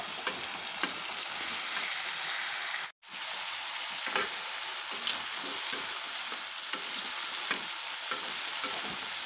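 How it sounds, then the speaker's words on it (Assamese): Small potatoes frying slowly on a gas griddle give a steady, close sizzle with faint crackles throughout, broken by one brief dropout near the start. "গেছৰ তাৱাতে অকণমান বহাই দি লাহে লাহে ভাজি ল'ম আলুখিনি।"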